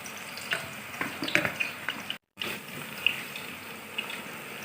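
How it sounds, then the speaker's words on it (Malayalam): Banana chip slices dropped into hot oil in an uruli fry with a continuous bubbling, watery sizzle and scattered crackles, broken by a very short gap of silence midway. "എണ്ണ നന്നായി ചൂടാകുമ്പോൾ അരിഞ്ഞു വെച്ച ചിപ്സ് കഷ്ണങ്ങൾ കുറേശ്ശെയായി ഇട്ട് കൊടുക്കാം"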